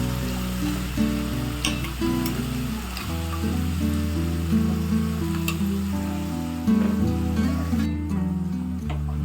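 A spice paste fries in a pan with a constant, dense sizzle and crackle, loud and close, continuing throughout without speech.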